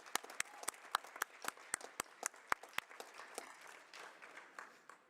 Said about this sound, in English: So I'm actually going to ask that we applaud.